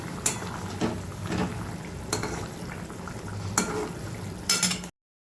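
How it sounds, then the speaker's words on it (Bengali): Fish curry simmering in a pot and being stirred, with soft bubbling and liquid movement, a few sharp clinks of a utensil against the pot, and a faint clatter at the end. "এদিকে আমি ঝোলটাকে একটু নাড়িয়ে দেবো"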